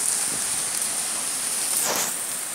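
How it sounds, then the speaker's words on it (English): Hail falls during a violent storm, producing a constant loud rattling hiss of ice pellets on surfaces with a brief swell of heavier impacts partway through. "This is horrible weather, but I kind of like the hail a lot."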